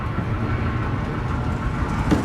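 In the video game Amnesia: A Machine for Pigs, a train rolls past with a loud, steady low rumble and a faint rhythmic rail clatter, followed by a brief clank near the end.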